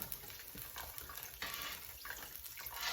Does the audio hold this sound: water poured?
yes